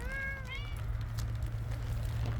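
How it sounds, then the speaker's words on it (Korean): A hungry cat gives two short, rising meows close by at a feeding station in the rain, followed by a low steady background rumble and faint scattered noises. "야옹야옹해서 배고파서 어 알았어"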